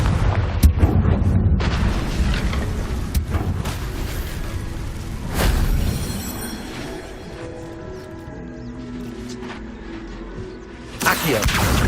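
Confringo fire-blast spell cast in the game Hogwarts Legacy, a loud booming burst near the start followed by rumbling crackle, with further heavy impacts around the middle and near the end.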